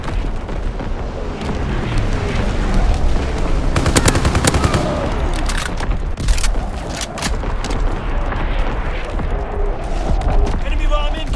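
Constant gunfire and booming explosions fill a Call of Duty: WWII free-for-all match on the Egypt map, with rapid machine gun bursts and heavy blasts and a voice speaking throughout.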